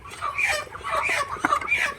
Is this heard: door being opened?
no